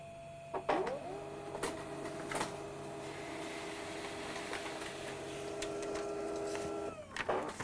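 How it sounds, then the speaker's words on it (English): An office printer prints a test page: clicks and clunks as it starts, then a long steady whirring hum of the paper feed, ending with more mechanical clunks as the page comes out. "make sure that our printer works by printing a test page"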